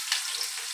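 Mustard and fenugreek seeds tempering in hot oil in a home kitchen, a soft steady sizzle with faint crackles, close and fairly quiet, no talk.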